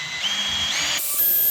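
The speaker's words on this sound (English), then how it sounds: "we will drill right down into that again" A power drill bores dowel holes into wood for a round coffee table, giving a steady, close electric whine whose pitch shifts partway through a short burst, with no talking.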